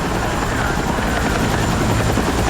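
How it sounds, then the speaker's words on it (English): A helicopter in the video game Battlefield 6 gives a loud, continuous rotor and engine roar that stays close and even throughout, with no talk over it. "now I'm stuck in this fucking helicopter"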